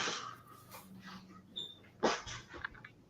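Dogs at home make soft snuffling, sniffing and whimpering sounds close by. Brief sneeze-like snorts stand out against a quiet room.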